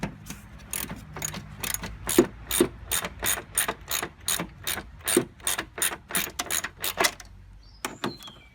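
A 13mm ratchet spanner clicks in quick rhythmic strokes while loosening a bolt on the engine mount support of a VW Golf 1.9 SDI, close and loud with no talk.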